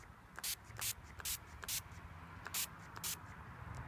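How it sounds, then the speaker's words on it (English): A spray bottle is pumped about seven times over an aphid-infested plant in short, crisp hissing bursts at a quick, uneven pace, quiet and close. "So I'm gonna just spray it"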